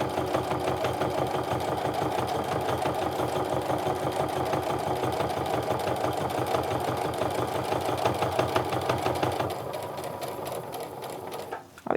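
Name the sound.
sewing machine stitching a clutch seam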